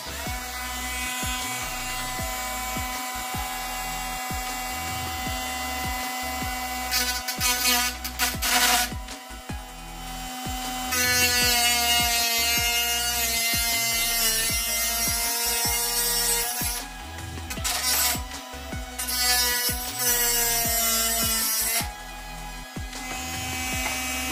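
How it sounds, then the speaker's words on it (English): A rotary mini craft tool with a cutting blade slices through stainless steel slot car track, its steady high whine broken by repeated harsh grinding bursts as the blade bites the metal, close and loud with no talking. "So I'm going to try and cut these tracks with my mini craft tool."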